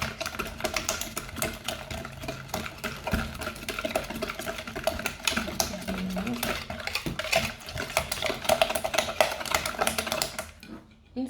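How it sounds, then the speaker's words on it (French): A hand whisk beats chocolate fondant batter with sugar in a bowl, giving fast, continuous rhythmic scraping and tapping strokes close up that stop near the end. "Vous pouvez prendre un batteur, mais moi je préfère le faire au fouet."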